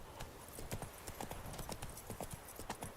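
A horse trots in a video game with quick, steady clip-clop hoofbeats. They are fairly faint and even in rhythm, with no voice over them.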